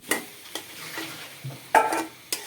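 Chopped coriander leaves being stirred into a frying tomato chutney, a few distinct scraping strokes of a spoon over a soft pan sizzle, close and fairly quiet.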